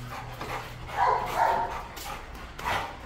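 A large pit bull barks a few times at close range, the loud barks standing out over low background noise.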